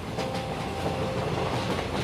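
A speeding train runs with a continuous dense rumble and rhythmic rail clatter, loud and steady throughout with no voices.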